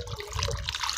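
Water splashes and trickles over a smartwatch in a waterproof test, a close, steady pouring stream with bubbling detail and no talk.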